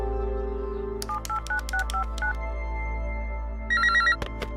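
Telephone on speakerphone plays a run of keypad dialing tones, a steady series of short beeps, then a brief burst of ringing near the end, all clear with no talking.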